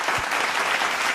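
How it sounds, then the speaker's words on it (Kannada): An audience on a singing reality show stage applauds, a brief, continuous burst of dense clapping heard alone. "ಒಂದು ದೊಡ್ಡ ಚಪ್ಪಾಳೆ ಕೊಡಬೇಕು."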